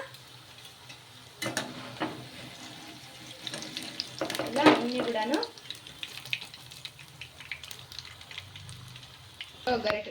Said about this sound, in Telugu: గోల్డెన్ కలర్ వచ్చే వరకు రెండు వైపులా కూడా బాగా ఫ్రై చేసేసుకోవాలి